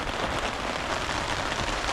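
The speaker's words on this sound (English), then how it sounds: "you can hear the rain." Rain falling outdoors over a wilderness lake, a steady dense hiss of drops hitting the surface, close and even throughout with no voices.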